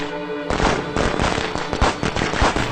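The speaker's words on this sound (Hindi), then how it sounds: "पटाखे कौन दगा रहा है?" Firecrackers crackle and pop in rapid, irregular bursts, loud and close, going off continuously after a brief quiet start, on an ordinary non-festival day.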